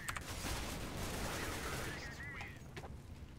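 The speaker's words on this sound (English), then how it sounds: "Good shooting there" Rapid gunfire from the video game CSGO, a dense fusillade of shots that fills most of the stretch and then thins into a few scattered bursts, loud and close.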